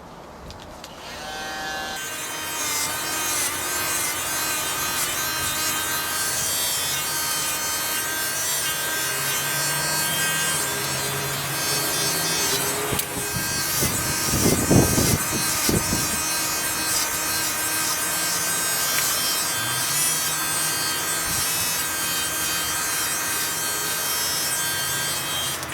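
Electric hair clippers cut a fade as someone trims their own hair. The close, steady motor buzz runs throughout, with a louder, rougher burst partway through.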